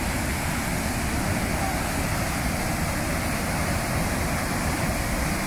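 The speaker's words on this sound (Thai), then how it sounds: "โอ้โหเสียงน้ำตกกึกก้องเลยครับ" A constant roar of rushing water comes from the Tano waterfall in Kawkareik, Myanmar, a broad, even wash of noise that holds steady without a break and drowns out any other sound.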